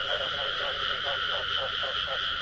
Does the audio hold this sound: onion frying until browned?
no